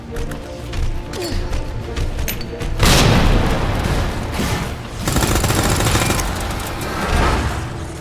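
A grenade blasts in the Resident Evil 2 laboratory, booming loudly amid ongoing gunfire and mechanical clatter, with sharp bursts and a dense roaring aftermath.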